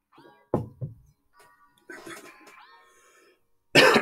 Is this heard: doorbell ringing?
no